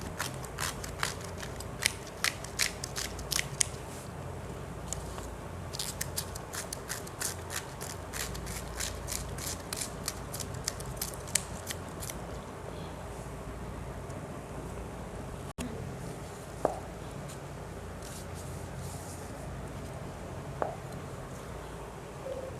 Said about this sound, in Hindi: ये मैंने बंद गोभी ली है और इसे मैं इस तरह ब्रीक ब्रीक काट लूँ।